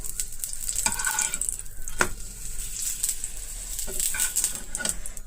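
A chapati frying with a little oil on a hot pan over high heat, puffing up; a steady close sizzle with a few scraping turns and light taps, no voices.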